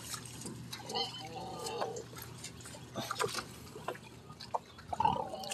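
A farm pig in early spring makes whiny squeaks and soft grunts near trickling cistern water, the squeals faint and scattered over a steady background.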